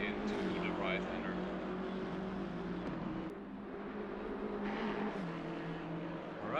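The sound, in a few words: GT3 race car engine in Assetto Corsa Competizione video game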